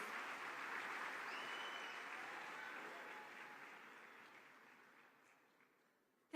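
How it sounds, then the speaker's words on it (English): Audience applause welcoming a panelist onstage at a youth health conference in Zanzibar, a steady broad wash of many hands clapping that holds strong and slowly tapers off toward the end. "Kindly a round of applause as she comes"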